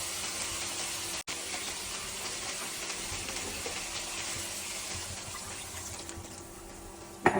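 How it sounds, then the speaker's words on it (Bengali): Water poured into a cooking pot, a steady close rushing splash that runs continuously with a slight sizzle, ending in a small knock at the end. "পানিটা দিয়ে দিলাম"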